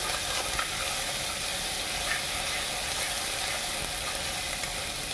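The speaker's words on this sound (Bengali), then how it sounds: "রসুনটাকে ভালো করে নেড়েচেড়ে ভেজে নিতে হবে" Garlic paste fries in hot oil with black cumin seeds, a dense, even sizzling hiss that holds steady and close throughout, without voices.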